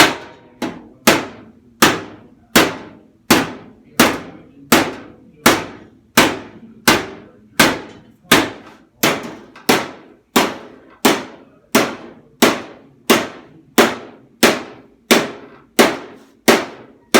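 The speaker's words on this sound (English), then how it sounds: "I'm using my rubber block and a door skin to hammer." A hammer strikes a new car door skin held over a rubber block on a 1967 Penske Camaro recreation. Sharp, loud metallic blows repeat at a steady rhythm, roughly one per second, each with a short ringing decay and no talk.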